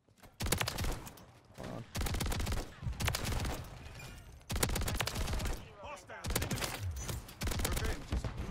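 Rapid bursts of Haymaker shotgun gunfire in Call of Duty MW3, loud repeated blasts in quick clusters with short pauses between volleys, and a player's voice briefly heard over the shooting.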